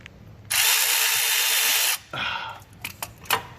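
A power tool, likely an impact or air ratchet, whirs loud and steady for about a second and a half on a starter bolt of a Ford 6.4 diesel truck. Shorter clanks and rattles of work follow it.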